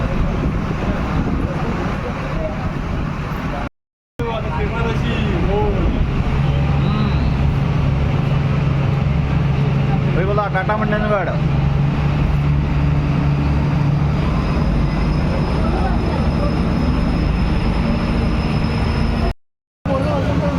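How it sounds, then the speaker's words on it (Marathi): A ferry leaves from the Ratnagiri–Raigad coast with a steady, loud engine drone and rumble. People talk over it throughout, and the sound cuts out twice for a moment. "चला आता फेरीपोट निघालेली आहे"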